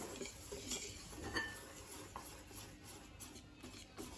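Chocolate, egg and sugar cake batter being gently mixed in a bowl, a soft continuous scraping and stirring with faint utensil clinks, close and quiet.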